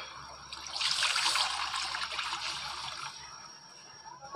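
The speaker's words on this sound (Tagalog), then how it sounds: "Lagyan na natin yung gata." Coconut milk is poured into a pot over a stove to make a mixed-vegetable coconut stew, giving a close, steady liquid splash and trickle that swells, then tapers off after a few seconds, with no talk.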